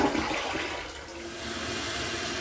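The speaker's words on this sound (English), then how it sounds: "flushing the toilet" A household toilet flushes with a loud rushing swirl of water, close by and steady for a couple of seconds before easing slightly.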